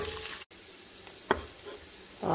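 Vegetables and onions sauté in rendered bacon grease for a BBQ baked bean casserole, giving a soft, steady sizzle broken by a brief dropout, a sharp stirring knock midway, and a louder burst near the end.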